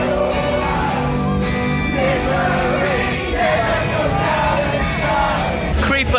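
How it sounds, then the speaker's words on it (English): Festival crowd at Slam Dunk Festival South yelling, whooping and cheering loudly and continuously, a dense wall of many voices with a brief burst of louder shouting near the end. "examples are shown of how nuts the crowd were"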